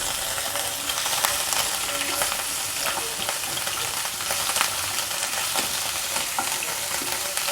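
Chicken pieces fry in a hot pan with a constant, close crackling sizzle while a utensil stirs and scrapes through them at intervals, with no voices.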